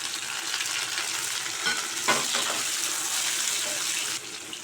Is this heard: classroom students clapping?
no